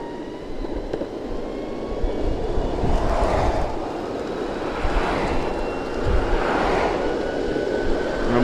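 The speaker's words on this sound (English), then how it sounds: "Top speed test on the LINNPOWER Mini 5, stock 85mm boosted wheels." LINNPOWER Mini 5 electric skateboard on stock 85mm wheels running at top speed up a slight hill, a rising whine and rolling wheel roar with swelling surges, fairly close and without talk.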